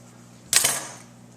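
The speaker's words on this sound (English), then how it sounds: "I'm just going to take some scissors and make 2 little snips." Scissors make a single quick snip through felt for a flower hair clip craft, one sharp close click standing alone over quiet room hiss.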